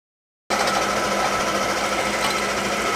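A machine tool cuts steadily into the boss on an aluminium Honda oil sump, a loud, continuous high-pitched whirring grind that starts abruptly and holds without pause.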